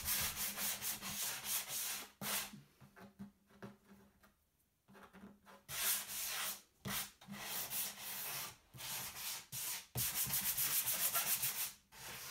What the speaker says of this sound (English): I use a hand sanding block to get rid of any sharp edges